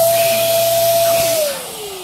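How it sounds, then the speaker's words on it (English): An electric balloon pump runs loudly close by, a steady motor whine with hissing air inflating a balloon, dropping in pitch as it winds down near the end. "I use my electric balloon pump"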